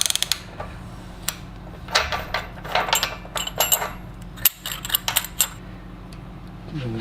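Work on the camshaft nut of a 1969 Porsche 911T engine during a rebuild: a series of sharp metallic clicks and ratcheting clacks in irregular bursts, close up, over a faint steady hum.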